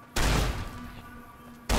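Gunshots in the video game Fallout New Vegas: a loud burst of gunfire opens, a ringing tail fades, and a second sharp burst hits near the end.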